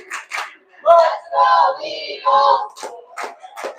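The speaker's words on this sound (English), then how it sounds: "Eden Prairie fans are pumped up here, getting their team ready to go, cheering them on" Hockey fans of Eden Prairie chant together in loud rhythmic bursts, a close group cheering in unison with short pauses between calls.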